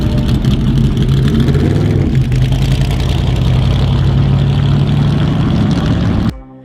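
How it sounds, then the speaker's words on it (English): A 1963 Chevrolet Corvette Stingray Grand Sport engine runs with a loud, deep steady rumble and slight revving variation for about six seconds, then cuts off abruptly, heard alone without talk. "the 1963 Chevy Corvette Stingray Grand Sport is one of the most beautiful cars in Vin Diesel's collection"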